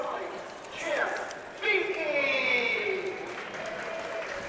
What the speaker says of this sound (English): the crowd's giving him a good hand.